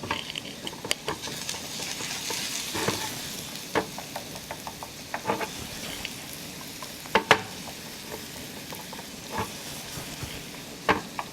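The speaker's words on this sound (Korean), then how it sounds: "이렇게 해서 다진 마늘이랑 파를 좀 볶아줍니다" Minced garlic and green onion stir-frying in hot oil for fried shrimp ramen, a steady close sizzle with scattered clicks and scrapes of a utensil stirring the pan, no talking.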